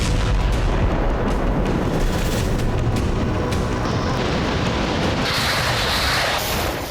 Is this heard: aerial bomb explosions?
yes